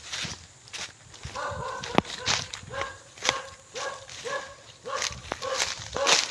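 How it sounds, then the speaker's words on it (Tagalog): A dog barks and yips in a run of short, sharp calls spaced about a second apart, near and fairly loud, with footsteps and some background shuffling between the barks. "Yung tawag dyan, yung aso."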